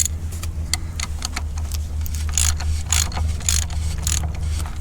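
Torque wrench tightening the oil filter cap on a 2020 Jeep Gladiator 3.6, a quick run of close ratcheting clicks over a low steady hum, no talk.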